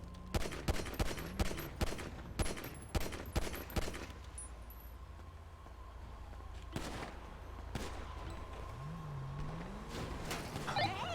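Gunfire in a GTA roleplay police shootout: rapid, sharp volleys of close shots in the first four seconds, then scattered single reports over a low hum, with a rising whine near the end.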